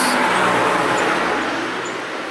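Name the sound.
car approaching on a road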